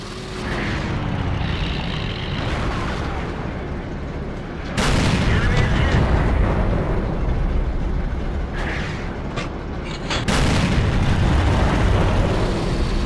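Nashorn tank destroyer in World of Tanks fires two heavy, booming shots several seconds apart, each with a deep, sustained rumble over constant loud battlefield ambience, with a voice talking over it.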